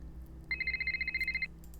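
A telephone rings in the Nancy Drew game The Silent Spy: one clear electronic ring of rapid, evenly pulsed tones lasting about a second, loud and alone over a low background hum.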